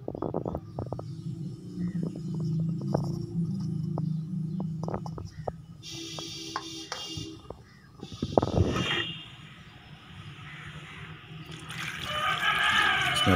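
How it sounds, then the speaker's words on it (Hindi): Water is poured into a pot of pumpkin pieces seasoned with turmeric, red chili powder and salt. A splashing gush comes partway through, then a steady rushing pour builds toward the end over a low kitchen hum. "इसमें पानी डाल दें।"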